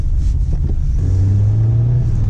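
A small 50-horsepower engine in a Volkswagen Scirocco L runs loudly nearby with a steady low rumble, rising slightly in pitch as it revs.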